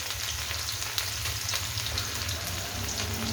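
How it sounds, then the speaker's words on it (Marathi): Mustard seeds and finely chopped green chilli sizzle steadily in very hot oil, a dense, constant crackle with a few sharper pops and no voices. "तेल खूप गरम झालेलं आहे आता मोहरी टाकूया थोडी मोहरीनंतर टाकूया हिरवी मिरची"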